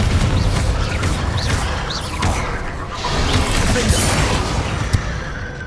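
Repeated explosive spell blasts from Confringo and Bombarda in the video game Hogwarts Legacy, a dense run of booming, crashing impacts with debris clatter, loud and continuous throughout.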